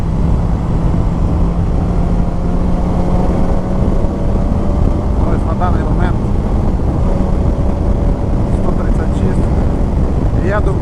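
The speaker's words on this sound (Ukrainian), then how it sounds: "вітряна погода" Steady, heavy wind buffeting a helmet-mounted microphone on a motorcycle with a constant low roar, no pauses, loud and close throughout.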